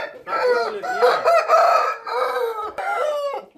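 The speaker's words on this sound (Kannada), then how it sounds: "ಎಲ್ಲ ಒಳ್ಳೆ ಕ್ವಾಲಿಟಿ ಹುಂಜಗಳು ಇಕ್ಕವ್ರೆ ಇಲ್ಲಿ" Aseel roosters crow on a farm near Chintamani, Bangalore: two loud, close, drawn-out crows, one after the other, with a short break between them.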